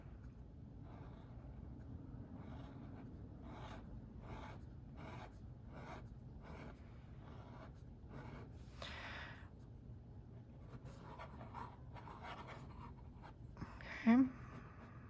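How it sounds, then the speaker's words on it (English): Lines drawn with a Kakimori metal dip pen nib on paper, a series of faint, rhythmic scratchy strokes close up, with quiet breathing and a brief louder bump near the end. "Let me dip it one more time and we'll see how long I can write with it."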